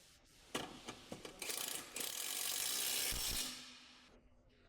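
A ratchet tightens the 17mm lower shock bolt on a 2002-2013 Acura MDX, giving a few separate clicks and then a sustained run of rapid pawl clicks, fairly close, with no voices.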